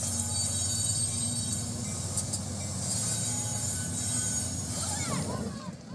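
A train rolls along the rails with a continuous low rumble, occasional metallic squeals and a rising screech near the end.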